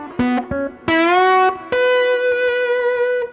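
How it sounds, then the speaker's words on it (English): Vintage V6M24 electric guitar on the bridge pickup playing a smooth, sustained distorted lead line: a few short picked notes, then two long singing held notes with rich harmonics, played alone. "I'm always trying to get those liquid lead tones with the bridge pickup"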